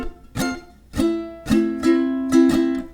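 Ukulele strums and plucked chords from measures 9 through 12 of a song arrive in a syncopated rhythm of about six attacks, close and clear with no voices over them.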